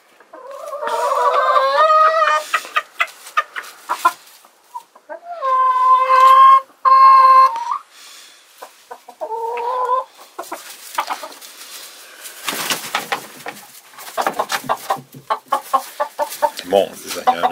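Polish roosters crow loudly and close by in a fight, with harsh, drawn-out calls followed by a flurry of scuffling, clucking squawks, flapping and sharp scraping noises.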